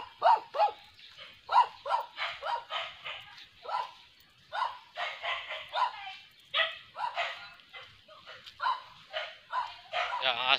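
A dog barks repeatedly in short, uneven bursts throughout, fairly close, mixed with human voices.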